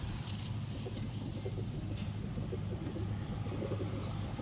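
A pigeon kept by a fancier coos in a low, steady drone that runs throughout, alone over a faint background hum with a few light clinks.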